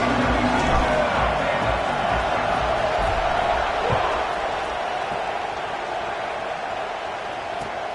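Broad stadium crowd roar at kickoff in a football video game, steady and loud, easing slightly toward the end with a thud or two underneath.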